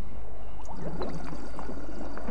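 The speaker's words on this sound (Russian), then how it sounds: "Машина работает, уровень воды стал понижаться" Water draining from a machine in the dark puzzle game Tormentum. Liquid pours and gurgles in a steady trickle over a low rumbling hum, with small splashy bursts scattered throughout.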